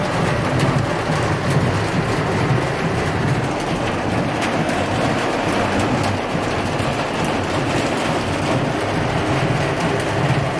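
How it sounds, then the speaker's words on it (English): Hail and heavy rain pelting down in a tornado storm in Higginsville, Missouri, a loud, steady, dense roar of hammering impacts with low rumbling underneath, unbroken throughout. "We got hail, and you know about hail, it only comes with the F7s."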